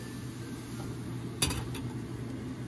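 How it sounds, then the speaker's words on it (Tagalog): A single metal clink as a lid is set on a pan of cooking striped bass, heard over a low steady background hum with a faint second tap shortly after. "Okay, lagyan lang natin siya ng takip."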